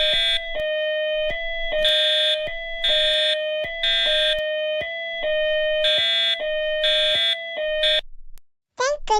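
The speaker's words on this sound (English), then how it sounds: "Why would the fire alarm go off at 3 a.m.?" A home smoke alarm sounds in a loud, repeating pattern of piercing beeps, about one every half second, in bursts that keep going for eight seconds and then cut off abruptly, followed by a brief chirp.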